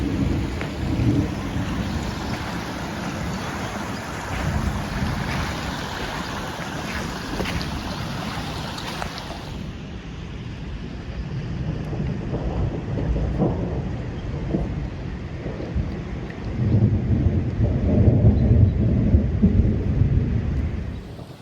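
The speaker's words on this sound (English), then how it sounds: "So it's starting to rain, and there's a lot of thunder and there's lightning" Heavy rain pattering and rumbling thunder at Lover's Leap along California Highway 108, a continuous loud wash with deep rolling booms building near the end.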